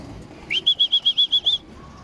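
A racing pigeon returns to its loft with a quick run of about eight evenly spaced, rhythmic wing flaps, close and fairly loud, then stillness.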